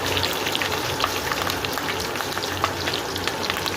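Curry leaves drop into hot oil for a spicy Agri-Koli style crab curry, giving a steady dense crackle and sizzle with scattered sharp pops, close and fairly loud, and no talking.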